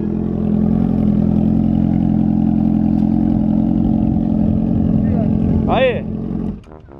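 A Honda Hornet motorcycle engine idles steadily and loudly up close, then revs briefly before cutting off abruptly near the end.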